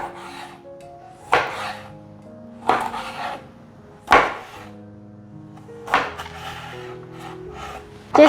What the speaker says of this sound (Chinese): 现在把蒂头都剥掉，把番茄切片